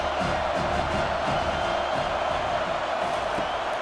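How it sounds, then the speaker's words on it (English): Steady stadium crowd roar from a College Football 25 video game, Ohio State versus Penn State, a dense continuous wash of cheering that holds at an even level throughout. "This crowd trying to make life miserable for this offense."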